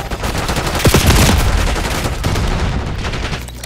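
Dense gunfire from Call of Duty: Black Ops 6 online multiplayer, with rapid automatic bursts and sharp shots that peak early and then keep rattling loudly throughout.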